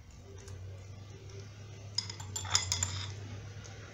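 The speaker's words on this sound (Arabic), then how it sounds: "ونخلط المكونات جيدا مع بعضها البعض" Ingredients for a garlic cream, including the contents of an emptied capsule, being stirred together in a bowl, giving a few close, light clinks and scrapes of utensil on bowl over a steady low hum.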